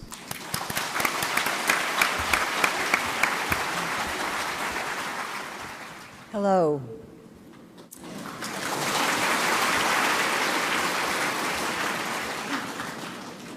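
Audience applause at a spiritual gathering, a sustained round of clapping that breaks off while a voice briefly speaks, then resumes as a warm, full wave of clapping from the crowd.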